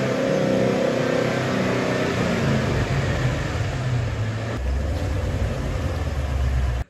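A Ford Mustang engine pulls slowly into a garage over a thick layer of ice at the door, a loud, steady low rumble with a drop in pitch midway and no talking.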